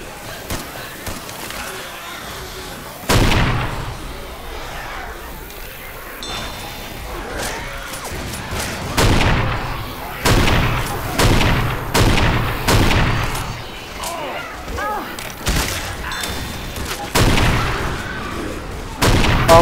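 Gunfire in Left 4 Dead, repeated loud sharp shots and short bursts scattered irregularly across the clip over a low background rumble, fairly close.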